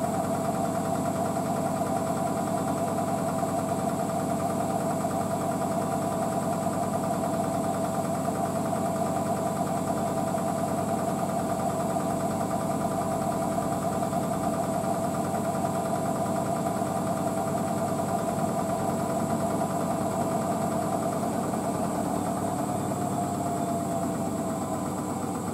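A washer dryer spinning at 600 RPM, a constant loud mechanical hum and whine with low rumbling vibration, steady and unbroken throughout, no talking.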